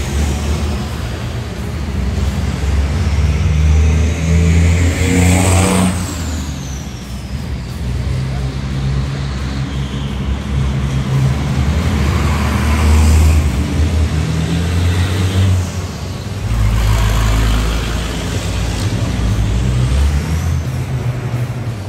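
Racing trucks warm up their engines at the 24H du Mans truck race, with deep revving swells, passing surges and hissing air-brake bursts close by, mixed with faint voices.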